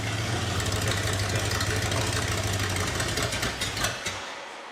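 A 1968 Ford Ranchero engine idles with a steady low rumble while the transmission turns the wheels, close and continuous, easing off near the end.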